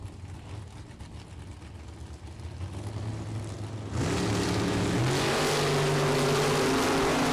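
Drag race between a Chevy Camaro and a little red Chevy II at a Super Pro bracet event: engines build from a low rumble, then loud revving launches surge in with rising, overlapping engine pitches.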